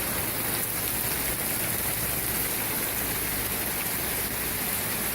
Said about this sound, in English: Raining hard as balls.